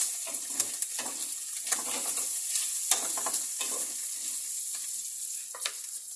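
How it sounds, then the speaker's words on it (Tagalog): Pork searing in its own rendered fat in a pan with no added oil, beside onion, ginger and garlic, gives a steady close sizzle broken by repeated stirring scrapes and bursts of spatter. "Sasangkutsahin muna natin yung pork."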